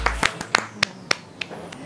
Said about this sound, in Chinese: 俾掌声欢迎先。